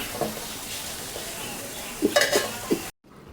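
Nate greens being fried with pressed dried fish in a pan, a soft steady sizzle with a few stirring scrapes and clinks near the end before the sound cuts off.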